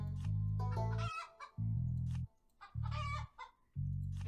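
Chickens clucking in the farming card game Terracards: repeated bursts of throaty clucks and squawks over a low droning hum, alternating with brief quieter gaps, close and steady.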